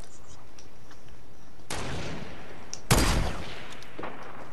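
Gunfire in an arena video game: two loud bursts of shots, the second heavier and closer, over a quiet game background with no talk.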